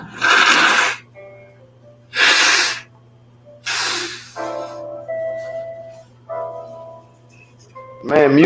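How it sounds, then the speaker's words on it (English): Three loud, blustery nose blows in quick succession, each a short burst of air, followed by a voice speaking close up. "mute that stuff when you blowing your nose."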